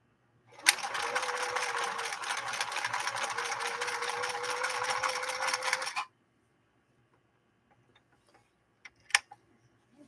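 A 1968 Singer Model 626 sewing machine runs a zigzag stitch in one steady, rapidly ticking burst of about five seconds, then stops, leaving near silence with a couple of faint clicks.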